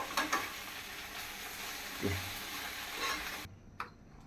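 Cabbage stir-fry sizzling and frying in a pan on a stove, a steady close hiss with a few stirring scrapes, then cutting off sharply near the end.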